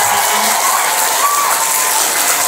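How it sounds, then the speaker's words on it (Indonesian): Seminar audience at an Islamic boarding school event applauding in a steady, dense wash of clapping that holds evenly throughout, moderately loud and without speech over it. "tepuk tangan dulu ya"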